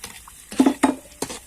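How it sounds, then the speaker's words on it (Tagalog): Spoon stirring coconut milk into a simmering stew of coconut heart (ubod) in a home kitchen, a few close scraping strokes against the pot in short bursts. "So, mix lang po natin ulit."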